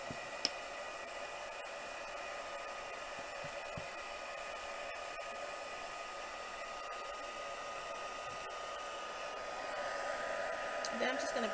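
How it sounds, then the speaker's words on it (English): A heat gun blows hot air in a steady, even roar, close and continuous throughout, swelling slightly louder toward the end. "I'm just heating my heat gun."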